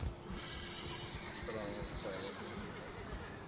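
A horse in the video game Valheim whinnies over clip-clopping hooves during a roleplay PvP tournament, fairly faint and mixed with a voice talking.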